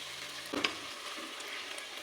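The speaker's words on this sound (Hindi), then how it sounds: "आलू को मेथी के साथ अच्छे से भून लेंगे" Potatoes and fenugreek leaves frying together in a pan, a quiet continuous sizzle with one brief scrape of a spoon early on, otherwise even and low.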